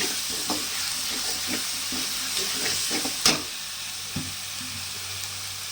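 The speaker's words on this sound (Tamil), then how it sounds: "இப்போ நம்ம கொஞ்சம் ஒரு 4 கொத்து கருவேப்பிலை ஆட் பண்ணுறோம். போட்டு ஒரு நல்லா வணக்குங்க." Curry leaves sizzle and fry in hot oil in a pan while being stirred for Tamil-style egg curry, with a steady close crackle broken by scraping stir strokes and one sharper pop.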